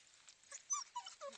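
A dog on a farm walk whimpers and whines in a few short, thin high-pitched bursts, close by and fairly quiet, with no talk over it.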